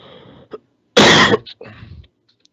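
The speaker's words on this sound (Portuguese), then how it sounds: "a voz vai sumindo, e aí eu vou começando a tossir." A few coughs and throat-clearing sounds, one loud harsh burst in the middle with softer coughs before and after, close to the listener.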